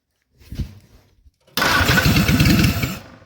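A rebuilt Willys L-134 engine in a 1946 CJ-2A cranks and coughs briefly, then catches and runs in a loud, rapid, uneven chug for about a second and a half before cutting out.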